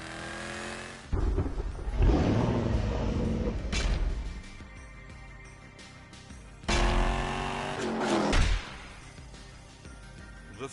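Project 8 car in The Grand Tour Game on PS4, its engine roaring loud and close in two bursts of acceleration with revs rising and falling between them, then easing back to a lower drone.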